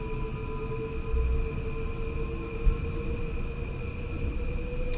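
Electric traction motor hum of an M8 commuter train in a train simulator game, a steady tonal whine with layered harmonics over continuous rumbling rail noise, even and sustained throughout with one brief thump.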